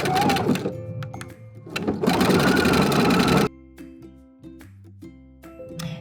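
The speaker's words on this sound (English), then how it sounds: "we're gonna sew up the sides with that overcast stitch" A sewing machine runs an overcast stitch along the sides of a Christmas stocking, loud rapid stitching in bursts that stops abruptly, followed by quieter mechanical hum and clicks.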